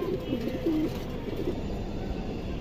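A female silver pigeon coos in a few short, low, throaty phrases near the start, then quieter background murmur continues in a loft setting, with no talking.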